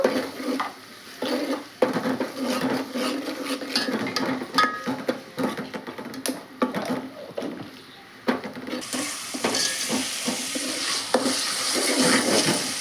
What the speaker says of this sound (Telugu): ఇది కూడా పచ్చివాసన పోయేంత వరకు వేయించుకుందాము.